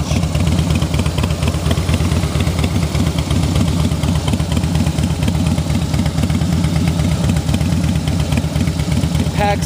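A 2013 Harley-Davidson Softail Fat Boy Lo with a 103 V-twin engine, six-speed transmission and aftermarket air filter idles close by with a steady, loping, throbbing beat throughout, with no talking.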